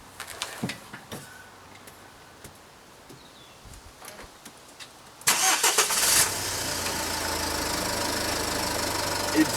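Diesel car engine cranking and catching, then settling into a steady loud idle after a few quieter clicks and knocks beforehand.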